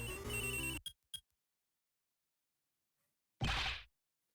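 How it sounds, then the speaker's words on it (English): Cell phone ringing in the Ace Attorney Investigations 2 video game: a short burst of bright ringing tones at the start, then silence, followed by a second brief loud ring burst near the end. "That sound. It's a cell phone."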